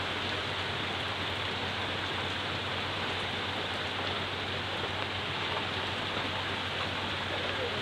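Rain falls steadily on an outdoor work site where drilling goes on, a close, even patter on surfaces that runs unbroken throughout, with no talking.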